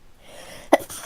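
A single sharp sneeze bursts out near the close mic, followed by a second shorter burst, cutting through quiet room tone during a tabletop role-playing session.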